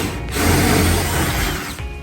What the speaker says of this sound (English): Simply running right through with a 1/4-inch drill bit up through the existing holes.